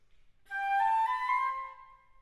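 A Baroque flute plays a short phrase of whole-beat slurs, smooth connected notes rising and falling in one breath, clear and alone at moderate volume before fading.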